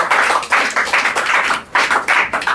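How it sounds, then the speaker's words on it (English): An audience applauding a speaker, a dense, continuous patter of many hands clapping up close in bursts, with no talk over it. "Clap for him."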